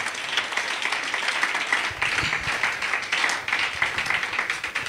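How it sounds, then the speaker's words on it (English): A church audience claps steadily and continuously at a prophecy service, a dense and lively applause without pause. "Let's clap for men of God"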